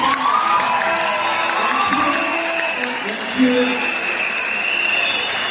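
Audience at a secondary school band performance on stage, applauding and cheering steadily in a crowded space, a continuous wash of clapping and shouts with voices mixed in throughout.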